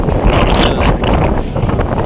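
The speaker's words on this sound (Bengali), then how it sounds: "এত পরিমাণে হাওয়া দিচ্ছে ভেতরে না গেলে হবে না" Strong wind in Kashmir buffets the microphone in a loud, constant rumbling roar that fills the whole moment, with no talk over it.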